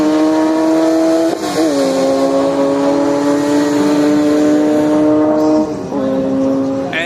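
Drag-racing motorcycles, a Kawasaki ZX12 and a Yamaha, holding a loud, steady high-revving engine drone that shifts pitch at gear changes, close and dominant throughout with no clear talk over it.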